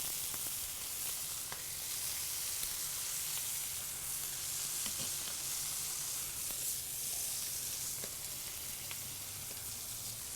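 A pork burger patty sizzles steadily in a pan, a dense continuous frying hiss with faint pops and ticks throughout, close up and free of talk.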